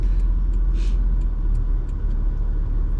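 A car's engine idles steadily while parked on the dusty Oodnadatta Track near Lake Eyre, a constant low rumble heard up close with faint ticking and outdoor wind noise and no talking.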